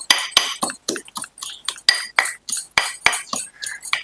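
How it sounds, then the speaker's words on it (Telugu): Garlic being pounded in a home kitchen, giving a quick series of sharp, hard knocks with clinking, metallic overtones. The strikes come close and loud in an uneven rhythm, about a dozen of them, with no talking. "నేను ఎల్లిపాయల్ని ఇలా దంచుకుంటున్నా అండి."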